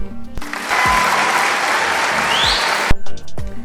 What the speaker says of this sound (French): S'il vous plaît, applaudissons pour ceux qui ont participé.